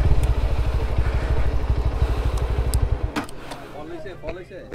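A motorcycle on a ride from Dhaka to Alikadam throbs nearby with a rapid, even engine pulse for about three seconds, then cuts out, leaving quieter clatter and background noise.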